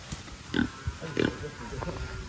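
A pig being led away early in the morning in a rural village gives short, rough grunts, two stronger ones close together, with low background noise and soft murmuring around it.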